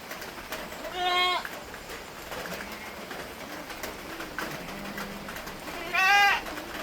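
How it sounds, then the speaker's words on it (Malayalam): A large Malabari goat, four months pregnant, bleats twice, several seconds apart, with quiet background noise between the calls. "വലിയ ആടാ കേട്ടോ, അത്യാവശ്യം വലിപ്പമുള്ള ആടാ"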